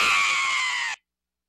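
A loud, sustained shrill scream from the horror video game Really Scary 2 holds steady for about a second, then cuts off abruptly into silence.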